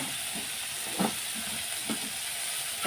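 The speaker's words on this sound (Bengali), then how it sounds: "এখন আমি ভেজে নেব।" Turmeric and chili powder frying in fish oil, a steady close hiss and sizzle running throughout with a few soft stirring clinks over it.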